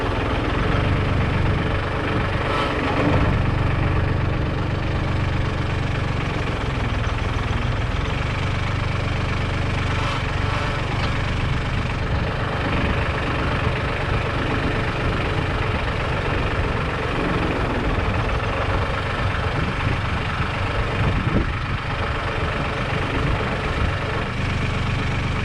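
A tractor engine idles nearby, a loud, steady low rumble with a rough knocking pulse that holds evenly throughout with no speech.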